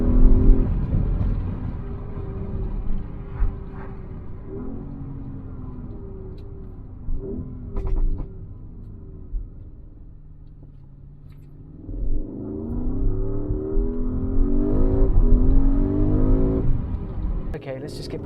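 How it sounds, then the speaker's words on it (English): Porsche Cayenne Turbo S hybrid with an electric motor accelerating on the road, a low engine rumble that drops back and then swells again as it pulls hard, heard from inside the car while someone talks over it. "I mean, the acceleration is brutal"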